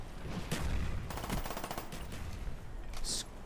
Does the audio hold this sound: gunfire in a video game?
yes